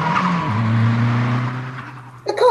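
A car swerves with tires squealing and skidding as a radio-drama sound effect, a sustained engine and tire whine that shifts pitch midway, ending in a brief sharper squeal.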